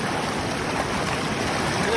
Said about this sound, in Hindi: दरिया का पानी है गंदा, ये आप देखें गंदा पानी है, है बहुत खौफनाक किस्म का है, बहुत खौफनाक है, इसका प्रेशर इतना तेज़ है ना